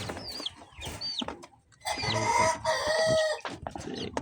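Backyard chickens, some recovering from illness and feather loss, cluck and call close by in a series of short, repeated bursts, with a louder stretch of squawking in the middle.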